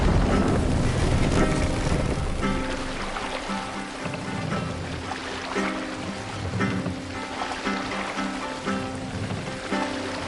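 Steady wind roars across open water around a Viking longship under sail in Assassin's Creed Valhalla, loud and continuous, with rushing spray and creaking tones layered under a soft musical bed.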